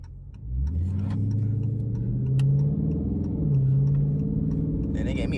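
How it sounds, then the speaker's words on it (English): A Dodge Charger Scat Pack's engine drones nearby as it accelerates through gear changes, its pitch climbing, dropping briefly at each shift, then rising again, with faint ticking over the top. "I love the sound it make when it's shifting to gears"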